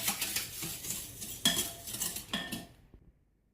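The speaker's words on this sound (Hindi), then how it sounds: "अब इसको हम पकने के लिए पैन में डाल रहे हैं" A mixed fruit soufflé mixture is scraped with a utensil into a pan to cook, giving a few soft clinks and scraping strokes with light sizzling, fading to silence at the end.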